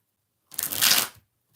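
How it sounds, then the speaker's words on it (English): Tarot cards are shuffled once in a quick, close papery riffle lasting under a second, framed by silence on either side. "4 more shuffles for Aisha."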